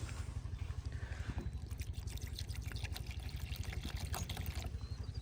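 Water pours steadily for a dog outdoors, a continuous trickling splash over a low, rhythmic engine-like rumble from nearby machinery.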